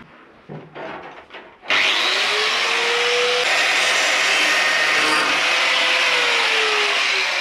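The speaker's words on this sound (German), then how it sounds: "Das Gitter schneiden wir raus." A power cutting tool slicing out a car's front grille: after a few light knocks, a loud close continuous grinding whine starts and holds steady, its pitch sagging slightly under load.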